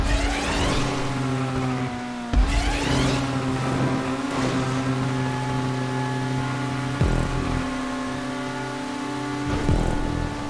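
Progen Emerus supercar in GTA 5 Online, its engine holding a loud steady drone with a few sharp gear shifts and surges of revs, close and continuous with no talk.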